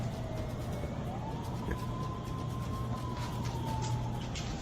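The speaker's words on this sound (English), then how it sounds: "he hears an ambulance pull up to the defunct hospital" An ambulance siren wails in a long, slowly gliding tone as it pulls up near a defunct hospital, moderately distant over a steady low rumble of traffic.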